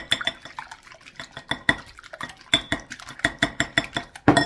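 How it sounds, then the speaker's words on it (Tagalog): Eggs seasoned with salt are whisked in a bowl, a fork or whisk clinking rapidly and rhythmically against the sides, close and clear with no talking. "Ngayon, magbatil tayo ng itlog."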